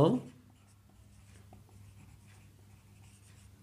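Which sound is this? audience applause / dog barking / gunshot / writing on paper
writing on paper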